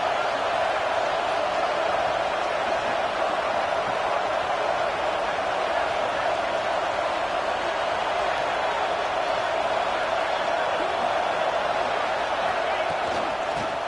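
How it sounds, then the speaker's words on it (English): Simulated stadium crowd in an NCAA football video game, a steady dense roar of cheering fans holding constant throughout as the home defense plays in the red zone, with no clear talk over it. "the crowd coming to life here, trying to help this defense down in the red zone"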